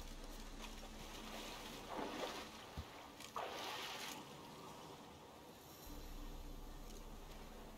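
A rowboat is rowed across a lake in The Witcher 3: Wild Hunt on the way to Mouse Tower, with a couple of soft oar splashes over a quiet, steady wash of water and wind ambience.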